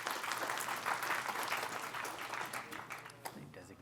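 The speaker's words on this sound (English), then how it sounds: "Round of applause for Anish." A panel audience applauds as a company CEO is introduced, a fairly quiet but continuous wash of many hands clapping that gradually thins and fades toward the end.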